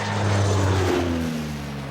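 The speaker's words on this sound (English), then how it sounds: "This plane is carrying high-tech photographic equipment, recording a bird's-eye view of our landscape" A propeller-driven aerial survey plane with photographic equipment drones overhead across the UK, a steady, loud engine hum with a slowly shifting pitch as it passes.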